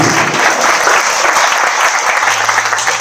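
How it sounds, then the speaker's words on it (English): Loud, dense audience clapping during a spiritual talk, sustained evenly from start to finish with no talk over it. "At least we can clap at that."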